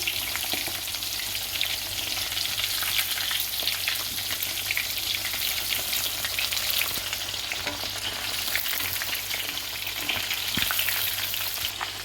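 Loud, steady sizzle and crackle of chicken frying in hot oil, close up and continuous, with faint stirring sounds and no talking.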